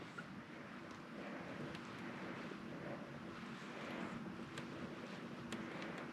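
Electric trolling motor driving a kayak across open water, a steady, even whir and wash of water running continuously with light wind noise and no talk.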